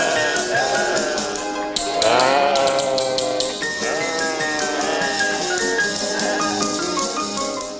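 Several sheep bleat loudly and repeatedly during shearing, overlapping wavering cries close by, with a constant background hum.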